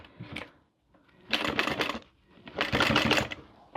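A sewing machine labours through thick fabric tabs on a boxy bag, giving a brief stitch and then two longer rattling runs separated by short pauses, close and fairly loud.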